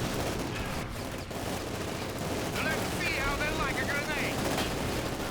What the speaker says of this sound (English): Grenade right through the wall